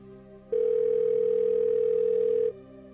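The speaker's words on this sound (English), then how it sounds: "Then I picked up the phone and called Megan." A telephone dial tone sounds as one steady, loud, unbroken hum for about two seconds after a quiet start, then cuts off abruptly.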